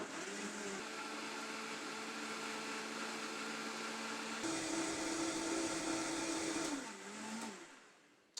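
A high-quality blender whirs steadily while blending a fruit smoothie, its motor pitch shifting partway through and winding down near the end, loud and alone with no talk.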